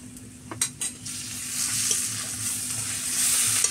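Chili, ginger and ground coriander-cumin spice mix frying and being stirred in a pan for village-style meat paratha, with a steady close sizzle, a few scraping stir strokes early on and no talk.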